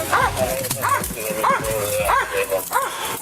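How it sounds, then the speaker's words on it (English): A police dog barks and yelps repeatedly in short rhythmic bursts during a struggle at an arrest, close and loud, with shouting voices mixed in. "Stop fighting the dog!"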